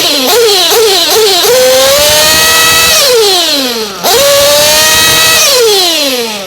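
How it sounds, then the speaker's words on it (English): A small engine being tuned with a VP Power setup revs hard in loud, rising and falling bursts, climbing steadily, dropping off and then surging again, close and alone. "Again, revving it between each tune."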